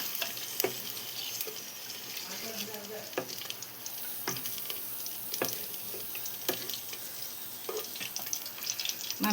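Green chillies sizzle in a pan for a chukkakura chutney, a steady crackling fry dotted with frequent sharp pops and spatula scrapes, close and moderately loud throughout.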